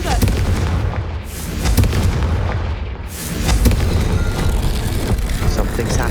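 Confringo fire spell blasts in the video game Hogwarts Legacy, booming loudly among dense combat noise with deep rumbles and sharp bursts, while a voice speaks over the clash.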